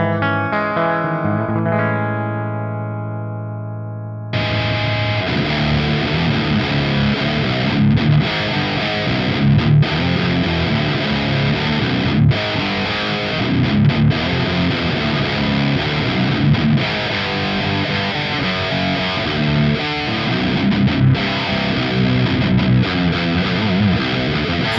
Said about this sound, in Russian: По звуку это грубый дисторшн на грани фуза с очень крупным зерном.